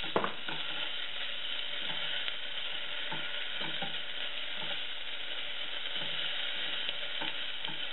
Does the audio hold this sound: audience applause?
no